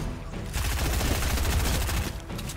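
Rapid bursts of automatic gunfire rattle continuously in a fast, even rhythm, loud and close, typical of a shooter game.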